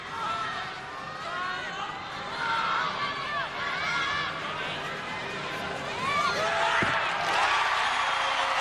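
Crowd noise fills the O2 Arena at a men's gymnastics all-around final, a broad murmur of cheering and chatter swelling toward the end, with a commentator talking over it.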